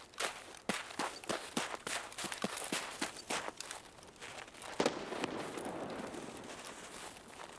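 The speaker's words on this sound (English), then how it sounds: "A lot of grenades." Rapid series of sharp, loud grenade blasts in Escape from Tarkov, over a dozen close bangs in an uneven burst, then one louder crack followed by a lingering rumbling, crackling tail.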